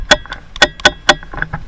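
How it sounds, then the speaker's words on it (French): Rifle scope turrets click sharply as they are turned, a quick irregular series of crisp, close ticks over a quiet outdoor background. "Vous entendez les tourelles bouger"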